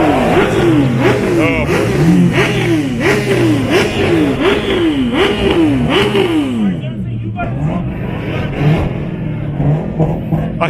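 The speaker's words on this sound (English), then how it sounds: "I thought that bike was a Ferrari or somebody revving. Kind of had that high RPM." A motorcycle revs hard at high RPM on a street in Woodbridge, Ontario. The engine blips up and down in a fast, regular series of loud revs, then eases off, and a person briefly exclaims over it.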